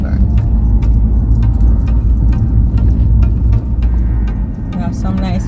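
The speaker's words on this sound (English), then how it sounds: "And we have traffic." Road traffic on Holborn Road heard from inside a moving car, a loud, constant engine and tyre rumble with scattered clicks and rattles, and a brief voice near the end.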